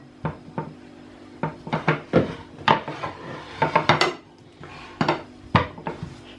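A kitchen knife chops through an onion on a wooden board, about a dozen sharp, irregular knocks and clatters with brief pauses between them, close and clear with no talking.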